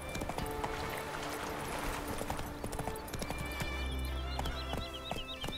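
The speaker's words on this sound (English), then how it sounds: "Run, Roach" Hoofbeats of the horse Roach galloping in The Witcher 3 game make a fast, steady clip-clop rhythm over ambient game music, with bird calls joining in the second half.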